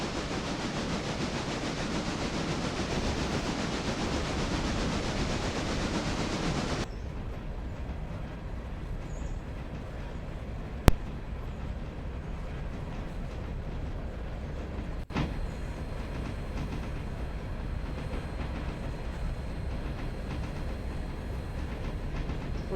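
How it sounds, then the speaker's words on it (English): Continuous low rumble and rolling hum of a train moving along the tracks in the game Railroader, steady throughout, louder and brighter at first, then muffled, with a single sharp click later on. "That way y'all don't have to sit there and just watch the train move"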